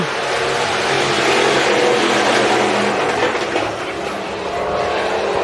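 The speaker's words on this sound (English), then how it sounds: "Here they come, rumbling into 3 and 4." IMCA Hobby Stock dirt-track race cars roar off at the green flag at Estevan Motor Speedway, a loud continuous engine rumble from the pack that swells and holds steady.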